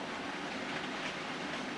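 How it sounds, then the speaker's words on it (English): A Class 8 mineral empties freight train passes Dent station, a steady broadband rumble and roar that stays loud and even throughout, with no voices. "So the next train up is a Class 8 mineral empties."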